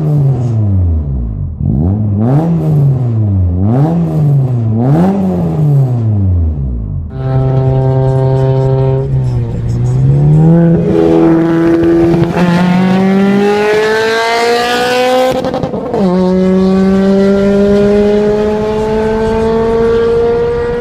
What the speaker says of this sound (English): The idle is buzzy and the throttle response is instantaneous